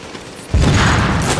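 Grenade explosion and gunfire in The Division: a quiet lead-in, then a sudden loud blast that rolls on as a sustained, heavy roar of combat noise.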